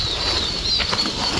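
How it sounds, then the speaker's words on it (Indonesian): Quick flutter of small wings with faint chirps near Curug Situhiang waterfall in Majalengka, Indonesia, against a steady background hiss, brief and close. "Dan sepertinya banyak suara burung"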